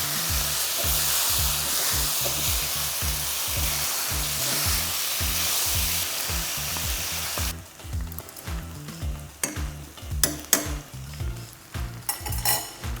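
Green beans for a turkey san choy bow fry in a hot pan with a loud, steady sizzle, then give way to clattering stirring and scraping against the pan, close up with no voices.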